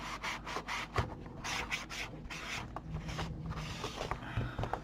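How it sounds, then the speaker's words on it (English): Steady back-and-forth rubbing of sandpaper on wood, a dry scratchy rasp repeating in short strokes, close up with no talking. "I'm not rough sanding it"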